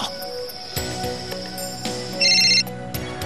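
A telephone rings in a tense crime-drama scene, a steady electronic ringtone pattern with a louder, brighter burst of rings near the end, heard alone without talk.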